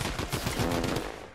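Rapid gunfire from a Tommy gun and other weapons in a Fortnite match, dense overlapping bursts sounding close and loud, continuous through the moment with no talking.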